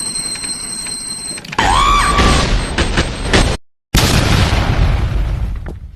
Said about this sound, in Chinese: 这炸弹差点把我耳聋了。